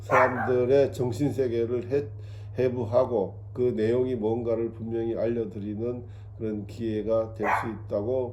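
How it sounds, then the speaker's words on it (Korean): A pet dog barks repeatedly indoors beneath someone talking steadily, its yaps partly buried under the continuous speech. "지금 우리 강아지가 열심히 짖고 있는데"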